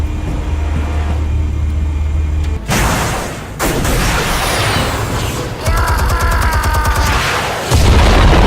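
Explosion in the Batman Telltale video game: a loud broadband boom bursts in after a sustained low rumble, followed by crackling debris and mechanical rattling with a dense, continuous noisy backdrop.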